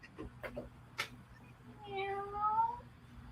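A voice imitates a soft, pitiful cat meow, one drawn-out whining mew heard up close after a few faint clicks and taps.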